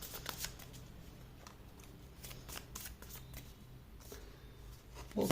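A deck of tarot cards is shuffled close by in quick, soft riffling bursts repeated over several seconds, crisp papery flicks against a quiet room.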